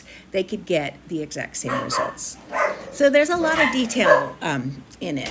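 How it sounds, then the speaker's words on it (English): Dogs barking in a house, sharp repeated barks and yips mixed in with a man lecturing, the barking close and fairly loud, overlapping much of the talk. "And I apologize for my dogs."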